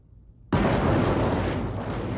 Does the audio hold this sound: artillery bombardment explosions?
yes